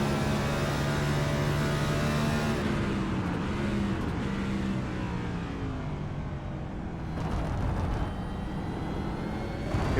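Race car at Road America under heavy braking, engine pitch sliding down through gear changes, a loud continuous roar that eases off mid-way before revving back up near the end.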